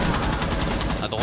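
A loud, rapid burst of automatic gunfire in Rainbow Six Siege, close and continuous for about a second.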